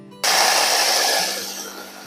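Bladed food processor grinding oats starts abruptly with a loud whirring buzz that runs steadily, then eases slightly as the oats break down finer.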